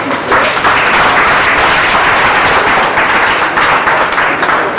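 An audience at a certificate ceremony for new actors in Togo applauds loudly and continuously, a dense, close burst of clapping that lasts throughout.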